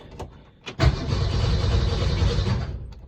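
A 1966 Ford Mustang with an inline-six engine and a suspect ignition coil cranks loudly and close. A few faint clicks come first, then a steady, sustained churning drone that runs without catching before it fades slightly.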